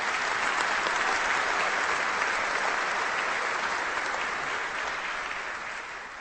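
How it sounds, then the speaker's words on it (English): Dense, sustained clapping from a law school commencement crowd, loud and even across the clip before easing slightly at the end, with no talk over it. "So please give them a round of applause as well."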